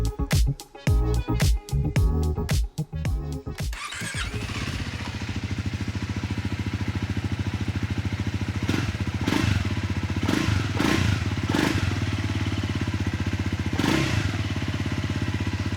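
A Triumph Scrambler 400X single-cylinder fitted with a Yoshimura exhaust: a few seconds of rapid cranking clatter, then the engine catches and settles into a steady, loud, close idle with a few small throttle blips.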